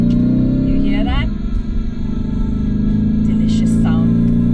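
Lamborghini Urus Performante V8 engine on a wet circuit, a loud steady drone with a brief rise in pitch partway through, heard from inside the cabin with speech over it.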